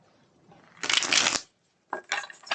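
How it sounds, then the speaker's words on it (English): Tarot cards are shuffled up close in two quick riffling bursts separated by a short pause, crisp and moderately loud with no talking. "Let's get these shuffled."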